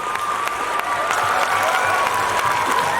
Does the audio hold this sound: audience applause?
yes